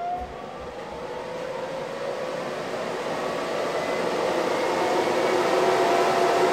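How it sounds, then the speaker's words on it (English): The cooling system of a Benjamin Recharge PCP air compressor runs as a loud, steady broadband whir and hiss that swells slightly over several seconds, with a faint rising tonal whine inside the noise and no talking. "Wow, that sounds like a very powerful cooling system"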